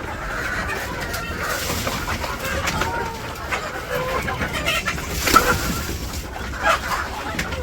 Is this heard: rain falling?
no